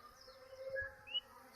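Honey bees buzz faintly around an open top bar hive three weeks after installation, a soft, thin drone with a few individual bees passing close.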